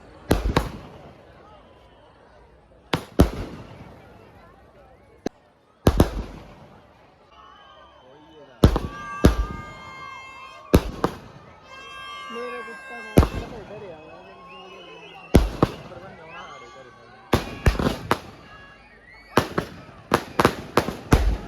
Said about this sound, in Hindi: और पटाखे वगैरह तो चल ही रहे हैं।